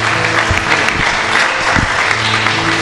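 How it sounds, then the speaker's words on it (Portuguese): A church congregation at a couples' lecture in Bolivia applauds loudly and steadily, a dense wash of many hands clapping together with no break, with a few faint voices mixed in. "Quantos podem aplaudir Jesus bem forte?"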